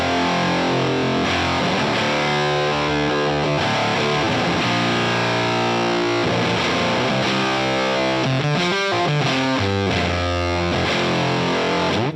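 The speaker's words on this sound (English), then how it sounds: "I'm using an octafuzz" An electric guitar runs through an Octafuzz pedal, producing a thick, brutal, heavily distorted tone with octave-up harmonics, played continuously and loud with sustained chords and brief rhythmic breaks.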